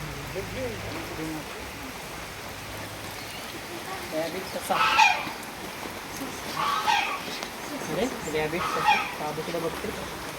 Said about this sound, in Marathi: मग बदक कसं ओरडतं